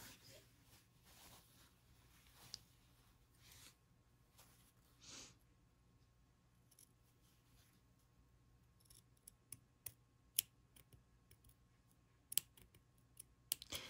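Sharp scissors snip into a fabric seam allowance up to the stitching line while sewing a garment's body and collar, a few faint, quiet cuts with soft clicks, growing brisker and crisper toward the end.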